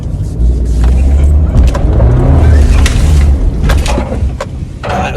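A Suzuki Jimny JB74 climbs a loose, soft off-road slope, its engine droning loud and close with rumbling strain and scrabbling tyres throughout.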